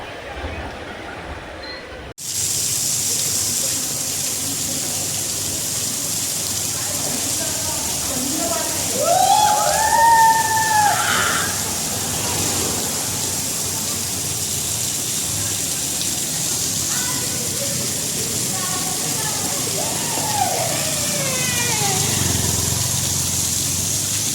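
Steady rushing water from the Kumbhe waterfall roars throughout, with voices talking over it partway through.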